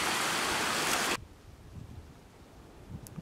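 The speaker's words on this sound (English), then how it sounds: "Waterfall's flowing good too." A waterfall on off-grid land in West Virginia, running strongly, gives a loud, steady rushing roar for about a second before it cuts off abruptly to faint, quiet outdoor ambience.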